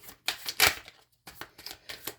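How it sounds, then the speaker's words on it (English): Tarot cards shuffled by hand in a short burst of crisp, papery riffles and slaps, loud and close, with a brief pause in the middle and no talking. "I'm shuffling cards and I don't even know what I want to look at yet."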